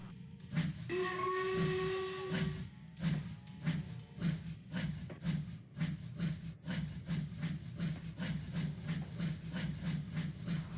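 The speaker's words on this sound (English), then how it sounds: "As soon as the guard blew his whistle, Alfred set off with the goods train." A guard's steam whistle shrieks for a couple of seconds, then a steam goods train starts chuffing in a steady, quickening rhythm with hissing steam.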